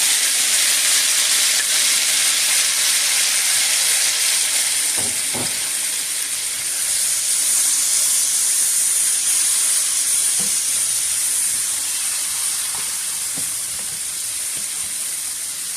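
Garlic and tomatoes sizzle steadily in a frying pan with sausage, a loud, close, continuous hiss with a few soft clinks of a utensil, and no talking.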